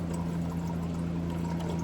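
Dark used oil pouring steadily into a drain pan from an open drain plug, a continuous close liquid stream over a low hum, with no talking.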